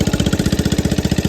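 A 1982 Honda ATC 110 three-wheeler runs close by, its small single-cylinder engine putting out a steady, rapid, throbbing putter after carburetor tuning.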